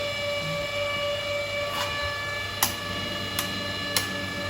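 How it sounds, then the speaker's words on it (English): A chiller for an arc melting setup switched on and running: a steady mechanical hum with sustained tonal whine throughout, punctuated by a few brief clicks or ticks near the end. "Now chiller is switched on."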